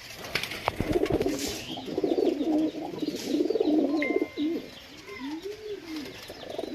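Pigeons cooing in a pigeon loft, several soft rolling coos close by with a few chirps and a brief whistle-like call, no voices.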